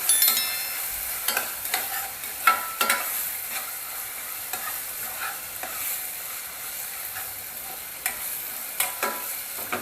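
Chana dal with tomato and onion is sautéed in a hot pan for a chana dal pulao: a continuous frying sizzle, broken by repeated sharp spatula scrapes and taps, close and alone.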